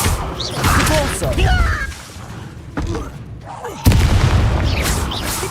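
Repulso spell blast from Hogwarts Legacy, a loud booming burst amid ongoing combat effects, with a sharp impact near the end and voices calling out spells around it.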